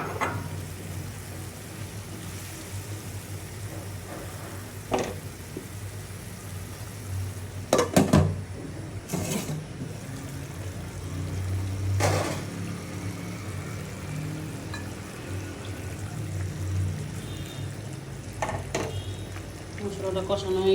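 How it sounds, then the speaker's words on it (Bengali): Spice paste of chilli, turmeric and coriander powder with fried garlic sizzles steadily in a pan, with occasional scraping stirs and a few louder clatters of utensils against the pan, all close by. "মশলাটা কষানো হয়ে গেছে"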